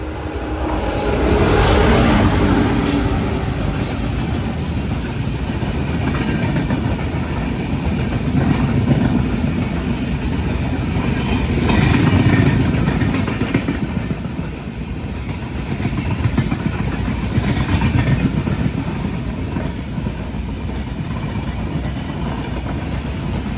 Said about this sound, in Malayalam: കുന്താപുര റെയിൽവേ സ്റ്റേഷനിലേക്ക് ഇതാ നമ്മുടെ ട്രെയിൻ എത്തിക്കൊണ്ടിരിക്കുകയാണ്